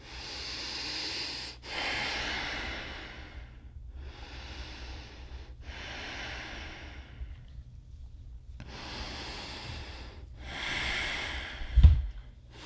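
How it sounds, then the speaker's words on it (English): Slow, deep yoga breaths during a sun salutation session, each long airy inhale and exhale separated by brief pauses, close and soft, with one small bump near the end. "Give it 3 more deep breaths."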